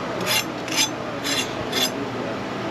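Crispy grilled cheese skirt on a hot dog being scraped or crunched: four raspy, scratchy bursts in a steady rhythm over constant kitchen hiss, close and moderate in level, no talk.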